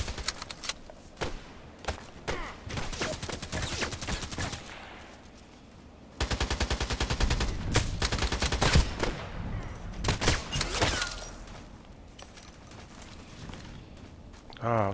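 Sniper gunfire from a video game cracks out in sharp bursts and single shots, dense at times and spaced at others, heard close and loud throughout.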